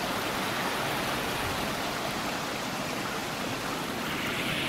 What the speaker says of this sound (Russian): Вот по этому сливу идет вода.